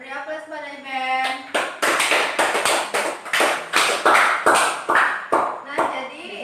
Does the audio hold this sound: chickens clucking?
no